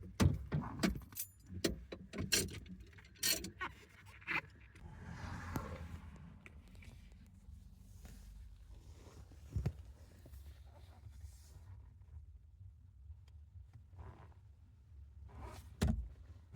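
A steering wheel club lock in a van being pulled apart, adjusted and locked, with metallic clicks, clanks and rattles in irregular bursts and quieter handling in between, up close.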